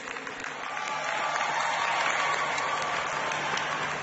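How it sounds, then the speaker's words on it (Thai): An audience applauds voice trainers at a televised singing contest show, a steady, dense wash of clapping that swells slightly and holds throughout, with faint crowd noise beneath. "ขอเสียงปรบมือให้กับ Voice Trainer ครับ"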